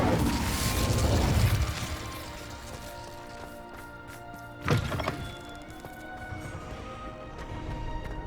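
An Incendio fire spell in the Hogwarts Legacy video game lands as a single sharp, thudding burst midway through, set against a loud rushing wash at the start and a lingering ambient game bed.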